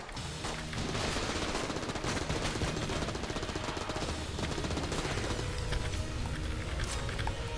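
Rapid, continuous gunfire from the video game Enter the Gungeon, a dense and loud stream of shots that keeps going without a break throughout.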